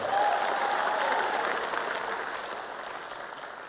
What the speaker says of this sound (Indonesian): Tepuk tangan untuk Mas Ganjar dan Prof.